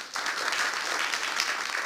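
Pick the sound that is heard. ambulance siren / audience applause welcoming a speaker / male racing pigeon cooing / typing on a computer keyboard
audience applause welcoming a speaker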